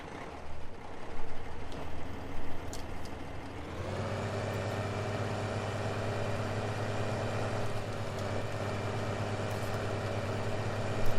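A Massey tractor engine in Farming Simulator 15 starts up partway through, then settles into a steady, low, droning idle that holds to the end. No one talks.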